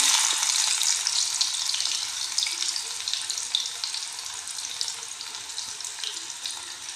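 Onion fries in hot oil in a pan for a cabbage dish, a loud, bright hiss that slowly settles down over several seconds, with no voices.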